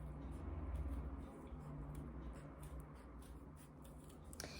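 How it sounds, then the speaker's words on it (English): Scissors snip around a stack of several drawn paper circles cut out for a costume, a steady close run of crisp cuts under a continuous low hum. "Then you use your scissors. It's quite hard to get through all of them."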